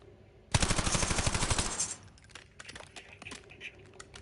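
A loud, rapid burst of automatic gunfire on the Black Ops firing range lasting over a second, then scattered fainter clicks and clatter.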